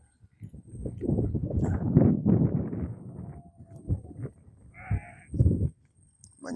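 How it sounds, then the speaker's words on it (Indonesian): Goats bleat outdoors in a village, several loud close bleats in bursts with pauses between them, one higher wavering cry standing out near the end. "Banyak kambing ternyata di sini guys,"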